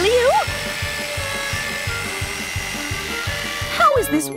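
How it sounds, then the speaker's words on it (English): A power drill whirs steadily as it bores a hole into a piece of wood, its rhythmic pulsing motor running throughout under a high voice speaking over it. "Oh yeah, it's drilling a hole!"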